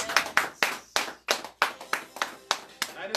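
A church congregation claps hands in a firm, even rhythm, about a dozen sharp, distinct claps at a steady beat, fairly close and clear with nothing else over them.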